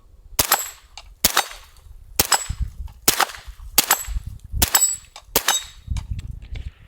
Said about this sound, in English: That steel is significantly louder than the gun going off.